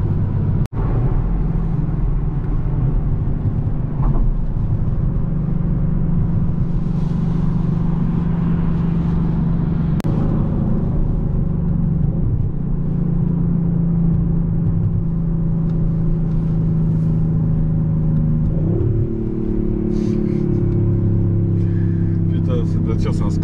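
A 2022 Audi RS5 with a 450 hp engine drones with a steady exhaust rumble while cruising, its engine note shifting as it moves through gears, and someone talks over it throughout.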